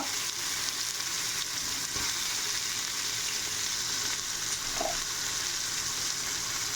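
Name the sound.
onions frying in a pan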